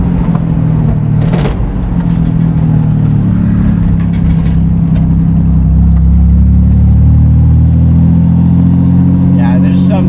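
A rare 1961 Corvair Wagon cruises along, its engine a steady, loud low drone with road rumble inside the cabin, holding an even pitch throughout with no voices over it.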